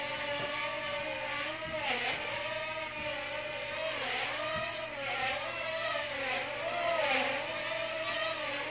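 Top Race TR-Q510 quadcopter flying, a steady whirring motor drone with wavering pitch as the throttle shifts up and down, moderately close and continuous.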